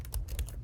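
Quick keystrokes on a computer keyboard while a docker run command is entered, several clustered clicks close to the microphone with no talking.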